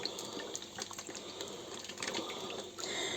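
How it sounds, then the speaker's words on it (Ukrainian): Cooking oil, about 150 grams, poured into a pan before onion and carrot go in, while preparing preserves for winter; a steady close liquid pour with faint crackle runs throughout, no talking. "Наливаю олійку."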